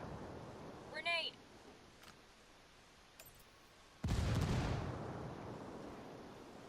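A grenade goes off in the shooter Ghost War-Tech, a sudden heavy blast that rumbles and fades over a couple of seconds, following a brief voice and a few faint clicks in a quiet scene.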